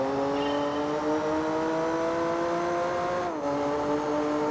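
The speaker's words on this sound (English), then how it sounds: "10 laps of Fuji in the McLaren F1" A McLaren F1 racing at Fuji in Gran Turismo 4 Prologue on PS2, its engine holding a loud steady high whine that climbs slowly, drops briefly with a gear change, then climbs again.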